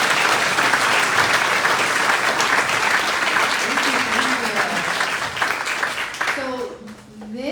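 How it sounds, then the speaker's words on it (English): An award ceremony audience gives a hearty round of applause for top teachers, dense clapping that holds strong before thinning out near the end as a speaking voice comes back in. "let's end with just one more round of applause for awesome educators"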